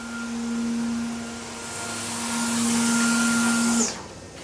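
Fanuc Robodrill a-T21iEL CNC vertical machining center spindle spinning at 14,000 RPM, a loud steady high whine with a pure tone that holds, then quickly spins down at the end.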